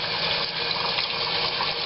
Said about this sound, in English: now the water level is going down quickly